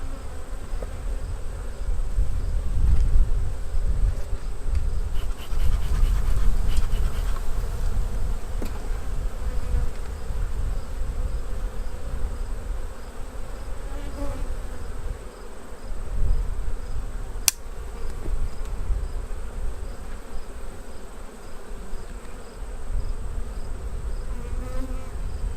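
Honey bees hum in a dense, steady buzz while an open beehive is inspected, the swarm drone loud and continuous throughout with occasional light clicks of frames being handled.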